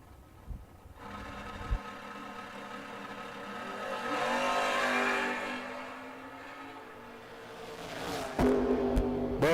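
Drag race cars, a Firebird and a Camaro, roar past in a door car duel, engine noise swelling to a loud peak mid-clip then fading, with a sharp burst near the end.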